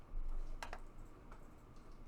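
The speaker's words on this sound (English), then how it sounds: "So let's type in Notepad++." A few quick keystrokes on a computer keyboard while typing into Notepad++, faint clicks over a quiet room hum, with no talking.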